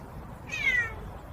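A single short, close meow from a talking parrot imitating a cat. It is clear and rises then falls, over a faint steady background hiss.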